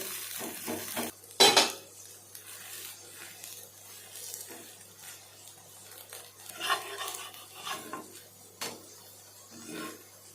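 Dosa cooking on a griddle, with clinks and scrapes of metal utensils and a light sizzle, plus a sharp clatter early on and intermittent scraping throughout.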